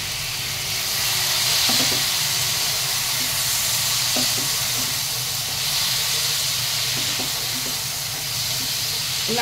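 Cut pineapple pieces fry with dry red chilli in a hot pan for a fish-head pineapple chutney, giving a steady, close hiss and sizzle with a few soft stirring knocks, no voices.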